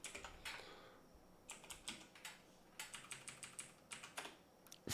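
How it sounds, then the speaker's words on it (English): Fast typing on a computer keyboard, close and crisp, coming in quick clustered bursts of keystrokes separated by short pauses, with no talking. "Furiously typing."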